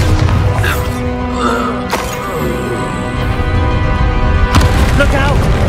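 In the Hogwarts Legacy video game, the Bombarda spell detonates in a hectic battle against a troll, with two sharp, loud blasts bursting through dense game sound and voices.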